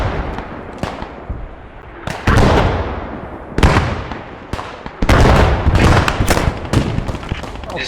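Gunfire from a World War II shooter game during a French versus German night fight in an urban setting: loud, sharp shots and bursts with echoing tails, some quick volleys close together, heavy and near.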